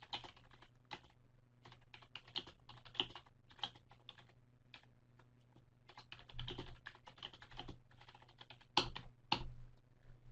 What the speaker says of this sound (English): yes, you can type your own captions.